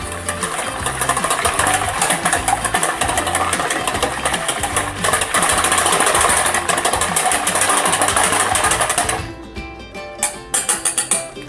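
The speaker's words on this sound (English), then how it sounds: "Whisk it nicely and make very fluffy." A milk pudding mixture is whisked until fluffy. A dense, rapid, whirring churn runs loud and unbroken for most of the clip, then breaks into short bursts near the end.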